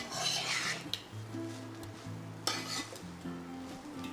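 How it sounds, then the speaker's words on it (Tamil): A spoon stirs soya rice with fried rice masala in a hot pan, scraping and clinking against the metal in bursts over a soft sizzle, close and moderately quiet. "ஸோ நல்லா கலந்து விட்டுக்கோங்க."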